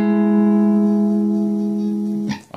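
An electric guitar plays a single sustained note on the third and second strings, ringing steadily alone, then cutting off with a short bright pick scrape at the end.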